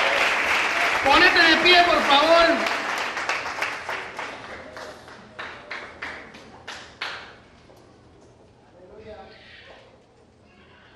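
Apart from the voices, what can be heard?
loud applause for the Lord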